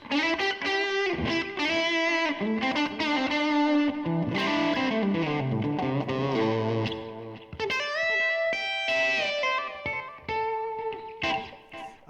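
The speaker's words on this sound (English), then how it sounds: "this is the 620. Really nice guitar." Electric guitar, a model 620, played through distortion and effects with chorus and reverb: loud, continuous overdriven chords and melodic runs with sustained notes and brief pauses, and no talking.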